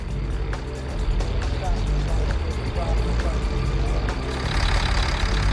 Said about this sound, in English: The Stryker engine is a Caterpillar 3126 UE engine.